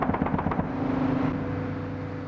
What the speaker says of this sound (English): first firing machine guns at Iraqis hiding in trees